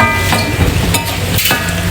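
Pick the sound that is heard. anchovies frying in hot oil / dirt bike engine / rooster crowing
anchovies frying in hot oil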